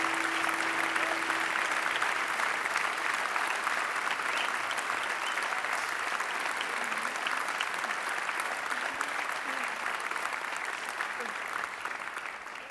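A crowd keeps up sustained, dense applause, steady throughout and easing slightly toward the end, with a faint voice briefly audible underneath.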